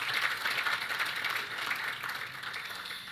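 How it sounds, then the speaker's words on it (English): An audience at the SASSETA 2025 annual general meeting applauds award beneficiaries, giving a steady, dense wash of clapping from a crowd heard at moderate distance that thins slightly toward the end. "can we give all of our beneficiaries a round of applause?"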